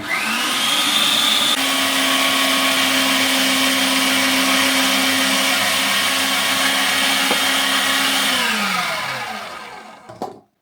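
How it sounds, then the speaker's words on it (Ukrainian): An electric meat grinder pushes cookie dough through and hums loudly and steadily at close range for about nine seconds, then winds down and stops. A short clatter follows. "опускаємо цю ковбаску і вмикаємо м'ясорубку"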